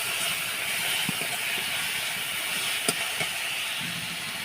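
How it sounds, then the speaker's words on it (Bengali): Spice paste of green chilli paste and chilli powder sizzles and hisses steadily in hot oil in a pan for a boal fish bone recipe, with faint spoon clicks and scrapes now and then. "দিয়ে এবার একটু মশলাটা কষে নেব।"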